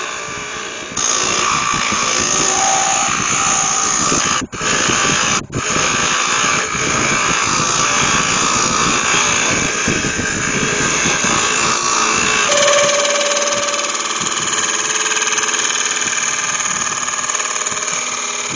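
Wood lathe hollowing a resin and root ball bowl, a loud continuous whirring and scraping cut with a couple of brief pauses, running steadily throughout with a tonal whine near the end.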